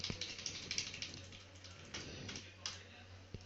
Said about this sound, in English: press the delete button or backspace button